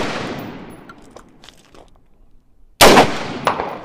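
AR-15 rifle fired at Samsung Galaxy Note 7 and iPhone 7 smartphones, a single sharp, loud close-range shot followed by a ringing echo, with the tail of a previous report fading beforehand.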